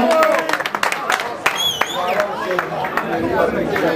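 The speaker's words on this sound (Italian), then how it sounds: "E un grandissimo applauso, forza!" A crowd at a Virtus Casolese gathering claps and cheers in a burst of applause, with excited voices and chatter mixed in, fairly close and lively for the whole moment.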